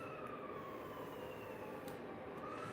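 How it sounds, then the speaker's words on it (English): Emergency vehicle sirens wail outdoors, a steady, continuous rising and falling tone that persists throughout, moderately distant against the background noise. "Of course, we got the sirens going off."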